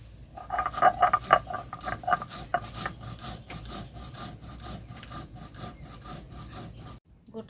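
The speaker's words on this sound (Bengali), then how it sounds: "এখন আমি গোটা জিরে বেটে নেব।" Whole cumin seeds being ground into a paste on a stone slab for a light potato and rohu-style fish curry, a steady rhythmic rubbing and scraping that runs for several seconds and then stops abruptly.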